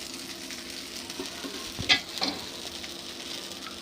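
Oil poured around the edge of a thick vegetable pepper uttapam on a hot pan sizzles quietly and steadily, with a brief clatter partway through and no talk.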